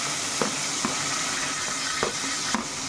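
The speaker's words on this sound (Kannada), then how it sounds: "ಈರುಳ್ಳಿ ಹಾಕುವಾಗ ಹುಷಾರು, ಹಿಂಗೆ ಚಟಾಪಟ ಅನ್ನುತ್ತೆ" Onions hit hot oil in a pan for veg biryani, giving a continuous close sizzle broken by sharp crackling pops every half second or so.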